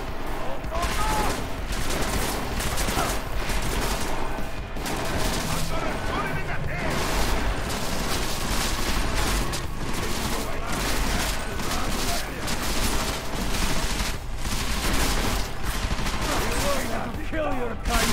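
Sustained gunfire rattles nonstop in the video game Deus Ex Mankind Divided, with dense automatic bursts and repeated shots filling the whole stretch. Shouting voices break in over the firefight.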